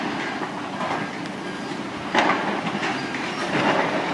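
A West Somerset Railway train rolls past close by on the line beside the mineral line walk, giving a steady loud rumble with rhythmic clatter from the wheels and no talk over it.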